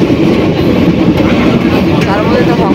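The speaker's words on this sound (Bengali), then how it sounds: "মোটামুটি 115 কিলোমিটার বেগে চলে যাচ্ছে ট্রেন" An Intercity Express train runs at around 115 km/h, and a loud, continuous rush of wheels and wind roars steadily from inside the carriage.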